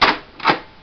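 A modded Nerf Vulcan EBF-25 belt-fed toy gun being cocked: two close, sharp plastic sliding clacks in quick succession, back and forth.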